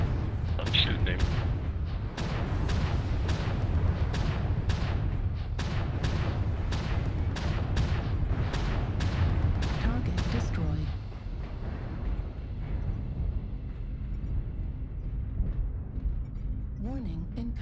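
Heavy mech weapons firing in MechWarrior Online, a rapid run of loud booming shots for about ten seconds, then quieter rumbling battle ambience with a faint tone near the end.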